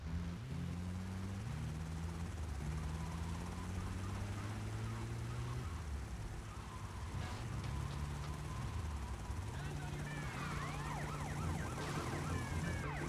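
An ambulance siren in the video game Grand Theft Auto: Tightened Vice wails in a repeating two-tone pattern over a steady engine drone, loud and close, with a chattering helicopter-like sound near the end.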